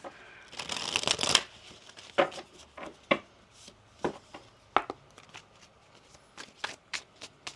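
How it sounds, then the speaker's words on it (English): Oracle cards being shuffled by hand at close range: a dense riffling burst, then a string of separate soft slaps and flicks at roughly one-second intervals, with no talking. "One more shuffle."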